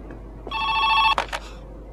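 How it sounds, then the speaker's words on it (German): A telephone rings in the indie horror game Joe's Diner, a steady electronic bell tone lasting under a second, followed by two short bursts, fairly loud and alone. "Aber jetzt ist so wenigstens, wie das Telefon sich anhört."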